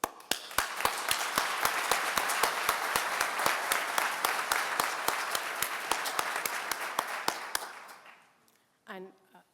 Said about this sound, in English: I want to give a round of applause virtually